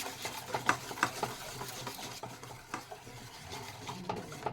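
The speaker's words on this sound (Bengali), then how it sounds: "সবগুলোকে ভালো করে মিক্স করে নেব এই টক দই আর বেসনটাকে।" Sour yogurt and gram flour (besan) with salt and turmeric being stirred together for kadhi, making quiet, rhythmic scraping and tapping strokes in quick succession.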